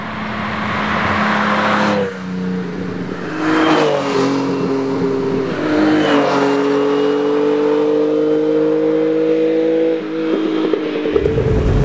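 A 1970s six-cylinder Dino 246 GT sports car engine pulls hard while driving, loud and close, rising in pitch through several gear changes with brief dips between shifts.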